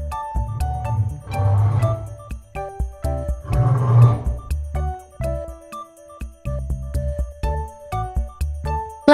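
Animatronic lion at a playground in Malang gives two loud, broad roars about two seconds apart, with tinkling chime-like music running under and after them.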